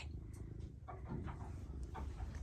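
A pet cat purrs close by in a low, rumbling, rhythmic drone that holds quietly throughout, with faint soft rustles on top.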